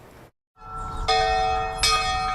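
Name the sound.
Estill County Courthouse bell ringing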